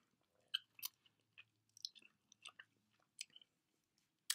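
Someone bites into and chews grapefruit, giving a series of close, quiet, wet crunches and smacking bites spread irregularly over a few seconds, with no talk.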